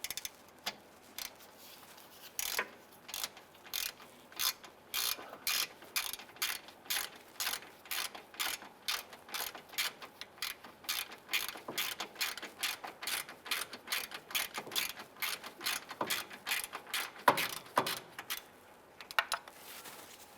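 A ratchet loosens a 10mm bolt on the power steering return hose of a 2005-2010 Chrysler 300, rapid clicking strokes repeated in short bursts throughout, close and crisp with brief pauses between pulls.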